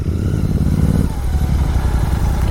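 A tuned Royal Enfield GT 650 parallel-twin motorcycle engine runs loud and close with a dense, throbbing exhaust rumble that shifts in pitch partway through as it revs.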